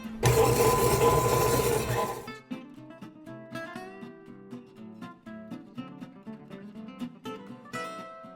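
An electric mixer beats sticky toffee pudding batter, starting with a loud dense whir for about two seconds, then dropping to a quieter, uneven hum with tonal wavering through the rest.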